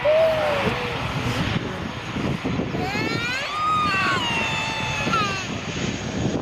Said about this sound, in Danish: Se flyveren, se flyveren.